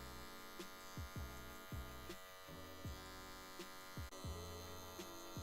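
Electric hair clippers run with a steady motor hum and buzz while cutting a barber fade, using the full blade, with repeated strokes through the hair and no talking.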